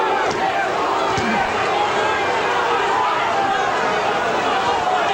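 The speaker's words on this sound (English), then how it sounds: "Crowd starting to chant Louis, Louis, Louis." A boxing crowd at the George Foreman vs Lou Savarese heavyweight fight chants the fighter's name. A dense, continuous arena roar fills the whole stretch without a break.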